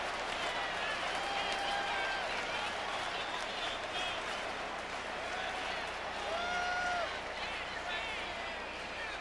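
A stadium crowd at an NFL game between the Oakland Raiders and Indianapolis Colts keeps up steady, distant applause and cheering that swells and fades, with a commentator's voice faintly over it.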